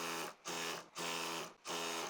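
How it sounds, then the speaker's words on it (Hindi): Sewing machine stitching trouser fabric, three bursts of fast whirring motor hum separated by short pauses, close and alone. "अब सिलाई लगाएंगे।"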